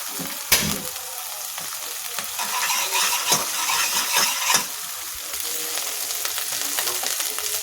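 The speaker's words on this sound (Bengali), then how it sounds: "মশলাগুলো আমি ভালোভাবে ভেজে নিচ্ছি।" Spices fry in a pan for a biryani-style dish, giving a steady bright sizzle with scattered sharp clicks and scrapes from stirring.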